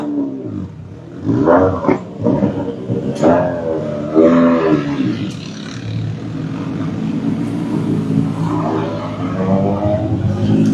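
Richard Valois's Trajectoire Racing rally car at the Rallye d'Envermeu, its engine roaring and revving in rising and falling sweeps, loud and close.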